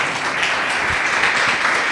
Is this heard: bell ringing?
no